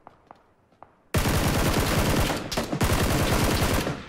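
Rapid automatic gunfire in the PUBG video game, a loud sustained burst of rhythmic shots that starts abruptly after a few faint distant pops, with brief gaps before resuming, no talking.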